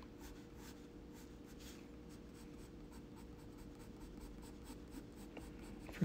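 A pencil drags across paper while drawing dark, crisp lines, giving a steady soft scratching that runs continuously and quietly close by.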